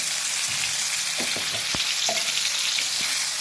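Tomatoes sautéing in a pan for a sardine kuzhambu give off a steady, close sizzle with a few light stirring clicks and taps. No one speaks.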